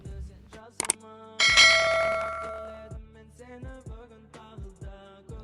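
A bright bell chime rings out, followed by a sustained ringing tone and a series of lighter, rhythmic chiming notes that fade.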